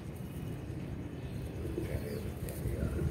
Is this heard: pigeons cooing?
yes